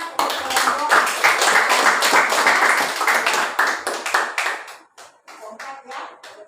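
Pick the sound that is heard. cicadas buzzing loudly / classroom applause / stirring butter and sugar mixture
classroom applause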